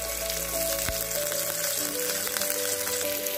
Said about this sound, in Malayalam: ഇനി നമുക്കിതിലേക്ക് 2 തണ്ട് കറിവേപ്പിലയും കൂടി ഇട്ട് കൊടുക്കാം